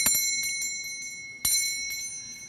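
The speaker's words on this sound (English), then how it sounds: "and so did every bell in the house" A bell rings with bright, sustained metallic tones, struck twice with clear strikes about a second and a half apart, each ringing on and slowly fading, alone and fairly close.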